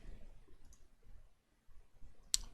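A single sharp mouse click near the end while confirming OK in software, brief and close over faint room tone.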